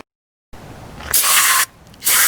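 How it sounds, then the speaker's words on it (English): Aerosol cleaner sprayed outdoors onto a B16A intake manifold comes in two loud hissing bursts of about half a second each, with a short pause between them, after a quiet start. "Let's spray it outside."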